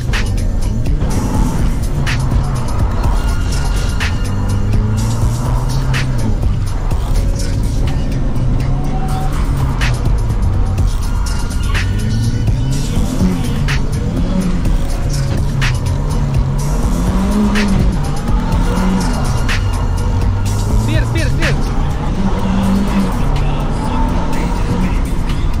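A Volvo 940 drifting, its engine revving and falling in repeated surges while tires squeal and scrub loudly and continuously, with a voice talking over the noise.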